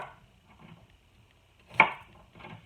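A single sharp knife chop through tomatoes on a cutting board sounds near and clear, with quiet rustling and board taps before and after.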